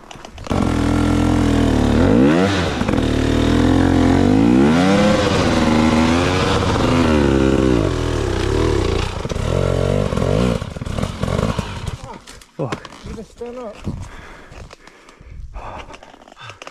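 Motorcycle engine on a wet, slippery ride, revving up and down in a loud, continuous drone that rises and falls, then turns to rougher, broken clatter and wind toward the end.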